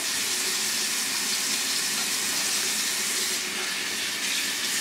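Water runs from a bathroom tap into a sink, rinsing bleach out of hair extensions, a steady broadband rush, close and even, without a voice.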